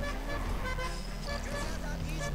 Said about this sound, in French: Je kiffe mon klaxon.